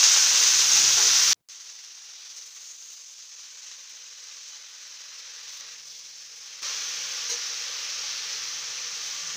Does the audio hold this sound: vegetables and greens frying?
yes